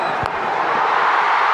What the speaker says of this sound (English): the crowd here in Visakhapatnam have found their voices again